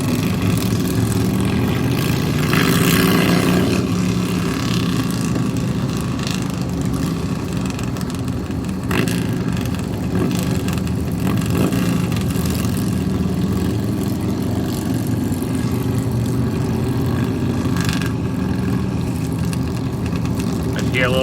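Several motorcycles in a funeral procession rumble steadily at low pitch throughout, a continuous engine drone with occasional swells, while a person talks over it.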